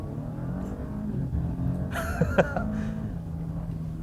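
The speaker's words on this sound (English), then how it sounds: "Floor the brake, hit the accelerator, floor it." A 2020 Audi A7's engine revs hard and surges as the car launches using launch control, a loud roar with a brief sharp burst midway, no voices.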